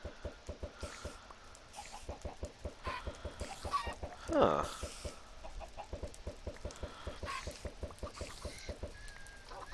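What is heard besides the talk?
chickens clucking in a video game (Minecraft Better Than Wolves)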